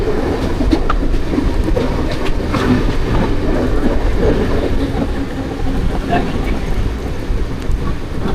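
Mumbai local train at Govandi station on the Harbour line during heavy monsoon rain, a steady loud rumble of rail cars with faint clickety-clack running throughout, under a wash of rain noise.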